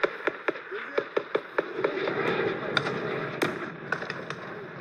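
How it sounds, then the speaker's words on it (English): Weapons fire at a military training range in central Romania, with French troops shooting rifles and machine guns: a rapid series of sharp distant shots, then a denser rumbling stretch with more scattered cracks. "They trained with all their weapons, so we had mortar fires, anti-tank missile fires, rifles, machine guns,"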